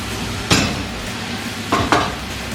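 Ginger and garlic sizzle steadily in a hot pan for a jalfrezi curry, with two sharp bursts of frying as more goes in, close and without talk.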